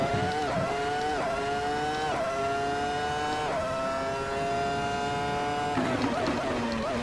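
A race car engine in a racing video game revs hard from a launch, shifting up through several gears with steep rising whines, then drops back briefly near the end.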